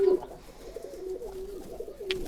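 Fancy pigeons of the Lakkha and English Fantail breeds cooing softly nearby, a low continuous throaty murmur with a few slightly stronger coos.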